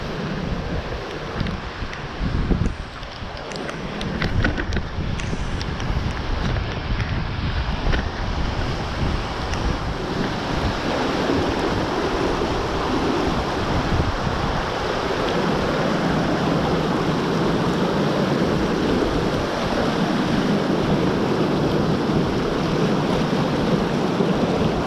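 Fast-flowing high floodwater after heavy rain, crossed by a cyclist in welly boots pushing a bike, makes a loud, continuous rushing roar mixed with wind buffeting the microphone. It runs steadily throughout, with no talking.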